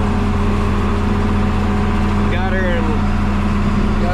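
An old John Deere 4040 tractor pulling a manure spreader in third gear at about 1500 RPM, giving a constant close engine drone with steady harmonic hum, and a voice briefly speaking over it partway through.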